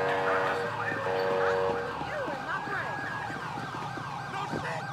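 In Grand Theft Auto 5 with the LSPDFR mod, an ambulance siren wails in a rapid, sweeping yelp, loud and continuous, over a low engine rumble.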